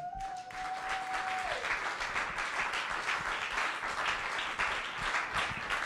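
A church congregation applauds steadily and loudly, many hands clapping together at close range in a full, sustained burst with some cheering mixed in, while a single held tone sounds briefly at the start.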